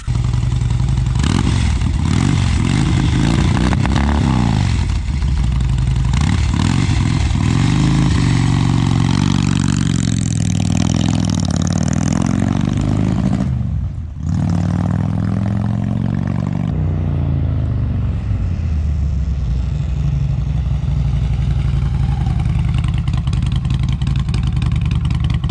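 A 2007 Harley-Davidson Road Glide motorcycle engine roars loudly and continuously while being ridden, its pitch rising and falling as the rider accelerates and eases off, with a short dip in the middle.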